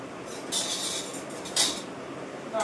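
A metal pot of boiled lentil dal with bitter gourd is lifted off a kitchen stove, producing two bright metallic clanks over a steady background hiss, with a third clank at the very end and no talking.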